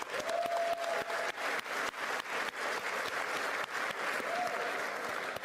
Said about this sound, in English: give yourself a round of applause for being here tonight